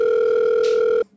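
A telephone dial tone sounds as one steady, clear, close hum for about a second, then cuts off abruptly.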